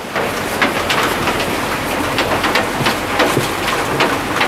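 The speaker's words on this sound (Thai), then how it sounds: "ให้ดูฝนตกข้างนอกฝนตกไม่หยุดเลย" Steady heavy rain hisses outside after falling all night into the morning, with scattered drips and splatters tapping nearby surfaces; no one speaks.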